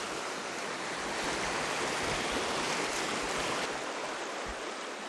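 Fast-flowing creek water rushing over red basalt rocks in a southeast Washington gulch, a loud, steady, broadband roar filling the whole stretch with no voices.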